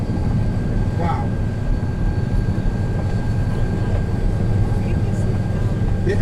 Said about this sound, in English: Now a lot of these planes are landing in the houses